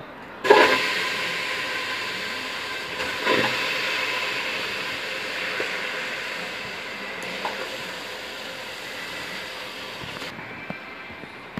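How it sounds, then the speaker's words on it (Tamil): A pressure cooker heats on the stove while mutton cooks for biryani, giving off a steady broadband steam hiss that rises sharply at the start and runs continuously, with a few soft clicks and knocks, no voices. "குக்கர் சூடாகுது"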